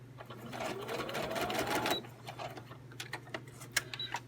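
Sewing machine running fast while stitching envelopes in a craft session, a steady mechanical whirr for about two seconds, then it stops and leaves quieter clicks and taps of handling.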